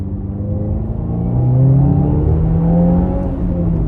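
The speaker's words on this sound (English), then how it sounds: "I'll go ahead and do another acceleration, 3K RPM." A 2022 Subaru WRX fitted with an aftermarket air filter revs up toward 3000 RPM, its engine rumble climbing in pitch and loudness, then holding a steady, close drone.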